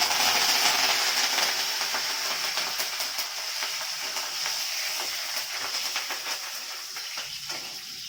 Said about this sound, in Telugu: నేను కరివేపాకు కూడా కొద్దిగా నేను ఫ్రై చేసి తీస్తున్నాను